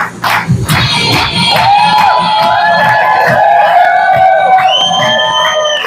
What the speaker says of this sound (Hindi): जोरदार तालियां बजा लीजिए आप